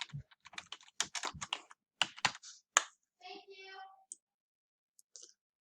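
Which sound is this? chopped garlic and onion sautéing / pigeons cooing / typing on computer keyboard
typing on computer keyboard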